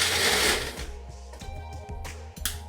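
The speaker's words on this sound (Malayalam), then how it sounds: "നന്നായിട്ടൊന്ന് ബ്ലെൻഡ് ചെയ്തെടുക്കാം." A blender grinds a coconut oil and salt marinade for trout, giving a steady whirring motor drone with a brief harsh burst at the start, then slight pitch shifts as the blade churns the mixture.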